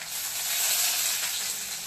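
Onion and garlic sizzle steadily in a hot pan while a ridge gourd sabzi is cooked, a close, continuous bright crackle with no pauses.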